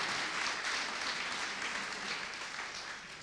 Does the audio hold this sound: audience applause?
yes